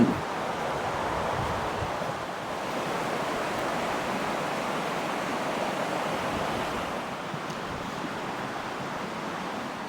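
Steady broadband rush of a river flowing right beside a riverside campsite with powered and unpowered sites in Tasmania, constant and fairly close, with no voices.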